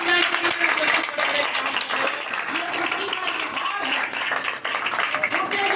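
A church congregation claps during a worship service, a continuous wash of hand clapping heard under a preacher's voice and crowd voices throughout.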